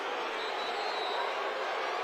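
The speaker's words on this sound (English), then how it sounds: "Listen to this crowd." A Friday night high school football stadium crowd roars in a steady, loud, continuous wash of cheering and noise, with no single voice standing out.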